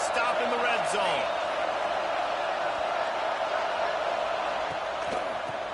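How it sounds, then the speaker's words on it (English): A stadium crowd at a football game roars steadily behind the defense during a red-zone stand, a broad sustained wash of cheering with faint whoops and thuds, a commentator talking over it. "The crowd getting behind this defense as they try to get a stop in the red zone."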